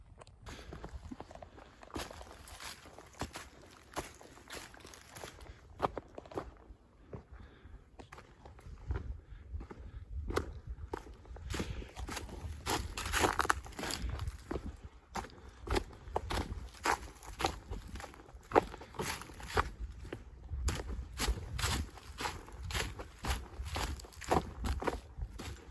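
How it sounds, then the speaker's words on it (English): Footsteps crunch across frozen ground scattered with ice particles on an Appalachian Trail hike, a steady close rhythm of crisp crackling steps running throughout, with faint speech at times. "I feel like I'm crunching on these little ice particles coming out from the ground."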